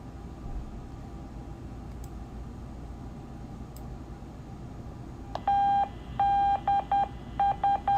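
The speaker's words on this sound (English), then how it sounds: "that's the Morse code beacon" Amateur radio Morse code beacon: a steady high tone keys on and off in short bursts and dashes near the end, loud and close, over a constant hiss of background noise.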